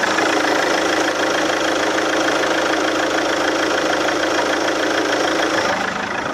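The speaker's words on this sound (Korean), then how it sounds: "네, 엔진음 체크해보도록 하겠습니다." Winstorm 4WD seven-seat SUV engine idling steadily up close, a continuous even rumble with faint knocking texture and no talk.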